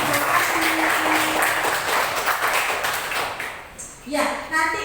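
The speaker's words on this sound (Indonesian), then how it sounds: "Beri tepuk tangan untuk kita semua." A classroom of children applauding together at the end of a lesson, with brisk, fairly loud clapping mixed with voices and chatter, tapering briefly before a short final burst.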